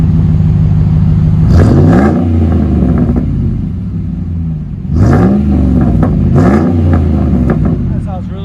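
A RAM 1500 with a 5.7L HEMI V8 and Flowmaster exhaust revs twice, each rise a loud, deep rumble sweeping up and falling back over a steady idle burble, with no talk in between.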